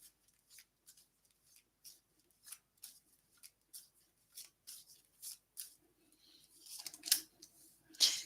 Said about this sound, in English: I'm going to give the cards a little bit of a shuffle.